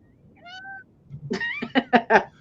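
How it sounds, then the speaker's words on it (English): A cat gives two short, fairly quiet meows, then a louder burst of several choppy, rising vocal sounds follows, which could be more meowing or a person speaking. "why are you meowing, Buffy?"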